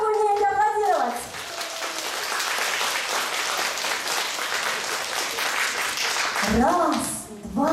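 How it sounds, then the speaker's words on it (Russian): A festive crowd bursts into loud, sustained clapping at a Maslenitsa celebration in a village house of culture, filling several seconds after a presenter's voice and fading as talking resumes. "А ну покажите мне, как вы умеете аплодировать."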